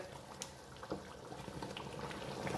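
A pot of lamb neck and chana dal simmers and gets stirred: soft bubbling and wet sloshing with scattered light scrapes and clinks, faint and close, steady for a few seconds.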